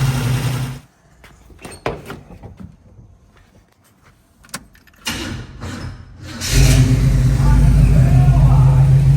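A Squarebody truck engine idles loudly up close, with intermittent knocks and mechanical clatter through the middle, then swells into a dense steady roar for the last few seconds.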